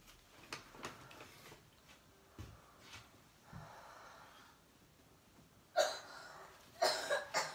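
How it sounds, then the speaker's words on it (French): A small child coughs, snorts and breathes heavily up close, with scattered soft breaths and sniffs early on, then a few louder harsh coughing bursts near the end. "tu tousses, mon cœur."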